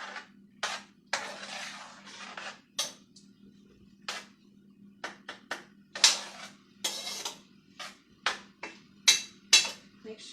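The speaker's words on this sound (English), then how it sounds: "Give it a little stir, get all our flavors mixed in together." A spoon knocks and scrapes around a pot of chili with bay leaves in a home kitchen, giving a string of sharp, close clinks and clacks in an uneven rhythm with brief pauses between strokes.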